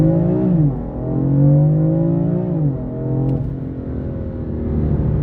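A 2017 BMW M4 with a DKG dual-clutch gearbox accelerating flat out in a 0-100 km/h run: a strong rising engine howl interrupted by quick gear shifts, loud and close throughout.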